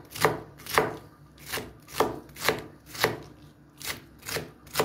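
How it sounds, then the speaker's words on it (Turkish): A knife finely chops Charleston peppers on a board in nine crisp, evenly spaced strokes, close and clear with no voices. "Onları da şöyle ince ince kıyıp içine koyacağım değerli takipçilerim."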